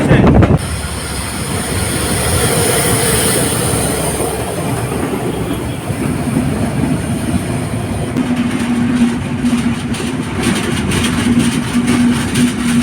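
A loud train rushes past close by at the Joydebpur rail crossing, its wagons rumbling steadily with clacking wheels and a high squeal throughout.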